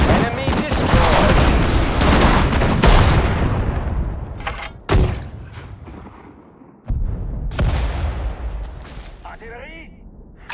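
Artillery barrages in the World War II strategy game Sudden Strike 4 on a hedgerow battlefield, loud booming blasts with long rumbling decays, a couple of sharp cracks, and a brief voice near the end.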